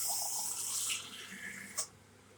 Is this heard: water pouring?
yes